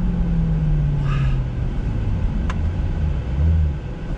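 A 2020 Chevrolet C8 Corvette Z51 engine pulls on throttle, a steady low drone heard from inside the cabin with a rising, slightly shifting tone, no talking over it.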